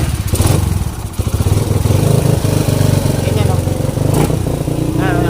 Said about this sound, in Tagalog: nagsimula ng umingay, pangit na ng tunog ng makina. Tapos palyado niya